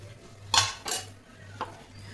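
A lid set down over a red rice appam pan, a couple of sharp metallic clinks close by followed by a lighter knock, over a low steady hum, no talk.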